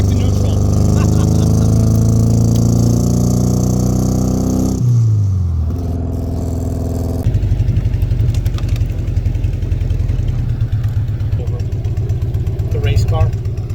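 Lotus Birkin S3 kit car engine revving through rising gear pulls, then dropping to a lower throbbing drive note with road and wind noise, loud and close throughout.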